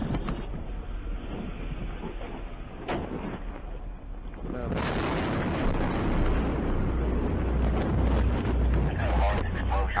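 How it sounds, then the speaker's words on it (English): A large explosion picked up by a police dashcam: steady wind buffeting gives way halfway through to a sudden, sustained surge of loud, deep rumbling roar that fills the rest of the moment. "Might be an explosion."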